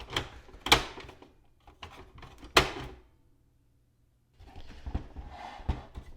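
Ink cartridge handled and pushed into a Canon PIXMA MG2525 printer, a few sharp plastic clicks and snaps up close with rustling handling, a brief silence, then more fiddling clatter.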